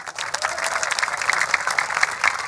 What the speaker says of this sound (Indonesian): Kita berikan tepuk tangan semuanya.